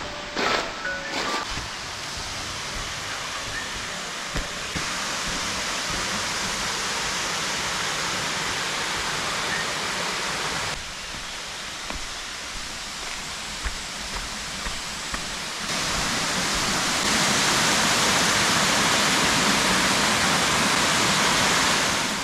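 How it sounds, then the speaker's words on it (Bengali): A waterfall and fast-flowing river beside a resort at Ghatsila roar as loud, continuous broadband rushing water that keeps going throughout and swells a little louder near the end. "ওই দেখো ঝর্ণা, এই যে এটাই হচ্ছে বেসিক্যালি খরস্রোতী নদী"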